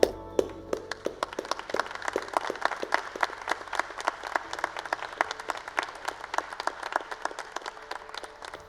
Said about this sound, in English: join me in a vigorous round of applause